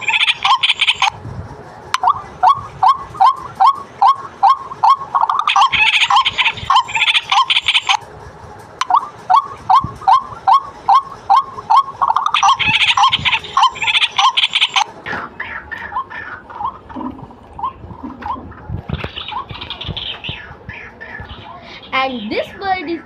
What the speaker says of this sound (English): this is the waterhen bird